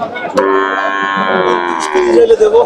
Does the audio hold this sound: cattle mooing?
yes